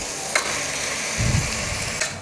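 Mutton bones and fat hit a hot pan of masala for a mutton kulambu, a steady loud sizzle and crackle of frying with a dull thump and stirring scrapes partway through, and no voices.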